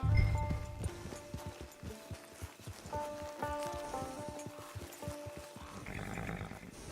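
Horse hooves clip-clopping in the Red Dead Online video game, a steady walking rhythm of close, distinct hoof strikes over a soft game ambience, with no talk over them.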